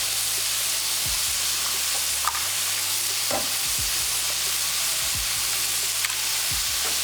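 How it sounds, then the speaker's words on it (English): Eggs frying in a hot wok alongside pork tongue for pad thai, a steady loud sizzle with faint stirring scrapes and no voices. "make a little hole in the center of the wok and crack my 2 eggs into it"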